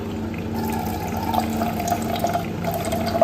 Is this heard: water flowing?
yes